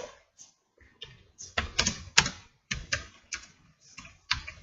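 Keys clatter on a computer keyboard in uneven bursts of fast typing, close and fairly loud, with short pauses between runs while someone works in Minecraft.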